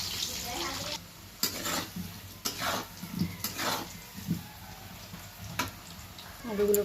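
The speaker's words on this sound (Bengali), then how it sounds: "এইভাবে আলুটা আমি 2 মিনিট ভালো করে ভেজে লাল করে নেব" Diced potatoes frying in oil in a pan for a chicken curry, with a soft sizzle, occasional scrapes and clinks of a spatula stirring, and a voice talking in the background.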